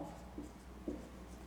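Chalk or marker writing on a board during a biology lecture, two short scratchy strokes over a quiet room hum.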